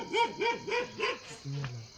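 A dog barking outdoors at night in rural farmland near sugarcane fields, four quick rhythmic barks at moderate distance followed by a short whimpering tone, with no talk over it.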